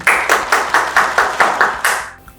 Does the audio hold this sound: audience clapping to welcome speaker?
yes